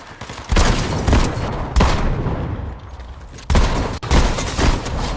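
Shotgun blasts in a video game fire in a few loud, close booms, spaced irregularly with rumbling noise between them.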